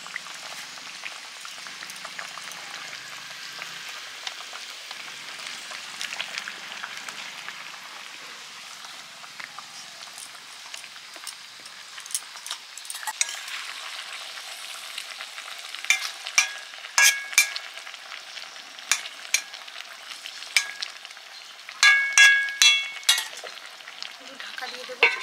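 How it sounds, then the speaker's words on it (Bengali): Taro stolons go into a pan with boiled raw hilsa fish, and a soft continuous sizzle and bubbling follows, with clattering stirring strokes growing louder toward the end. "ইলিশ মাছটা সেদ্ধ হয়ে গেছে, এবারে আমি লতিগুলো দিয়ে দিচ্ছি।"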